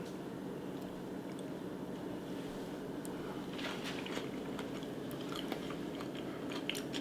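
Close chewing and crunching of a keto potato salad made from cauliflower instead of potatoes, faint soft bites repeating over a steady low background hum, with no talking.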